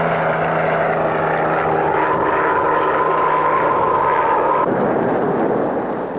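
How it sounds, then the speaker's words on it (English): A helicopter flies toward shore from an offshore barge operation as a storm threatens, giving a steady, loud rotor-and-engine drone with a tone that rises and then cuts off. "a helicopter heads for cover on shore"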